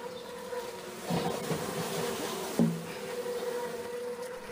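Honeybee workers buzzing steadily inside a glass aquarium under a screen lid, a continuous close hum with a few brief louder bumps and flurries.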